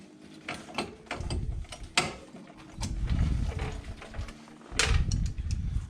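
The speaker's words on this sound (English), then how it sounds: "Get this cotter pin out." A cotter pin is being worked out of the rear axle of a Can-Am Outlander ATV, giving close metallic scrapes, clicks and sharp ticks in irregular bursts with low rustling in between.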